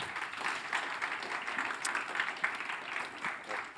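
Applause from an audience after a presentation at a cybersecurity conference hall, steady broadband clapping sustained for several seconds at moderate, somewhat distant level.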